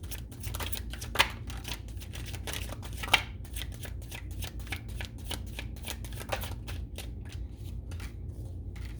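Tarot cards being shuffled by hand, a close, soft run of papery flicks and riffles with a few sharper snaps, steady throughout and without speech.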